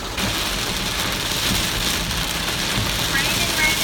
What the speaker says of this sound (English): I feel like I have to yell over the rain